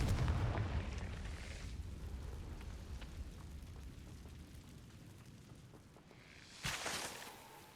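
Confringo fire spell blasting in Hogwarts Legacy, a heavy booming explosion that fades into a long rumbling decay, followed by a second sharp burst near the end.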